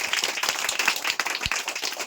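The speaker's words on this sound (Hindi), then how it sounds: "जोर से बोलोगे तो एक बार जोरदार तालियां" A village audience of children claps loudly and vigorously, a dense burst of many hands with sharp individual slaps standing out and a faint voice underneath.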